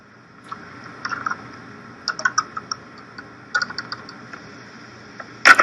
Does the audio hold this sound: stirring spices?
no